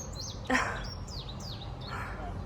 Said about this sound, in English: Did you guys hear that bird? I can't see it, but I love its little song. It's so loud too.